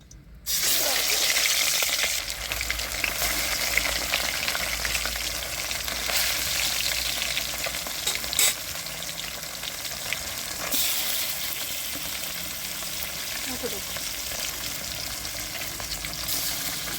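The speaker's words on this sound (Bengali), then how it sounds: "মাছগুলো ভালো করে ভেজে নেব" Rohu fish pieces dropped into hot oil, a loud continuous crackling sizzle from the pan with occasional clinks, steady and close throughout.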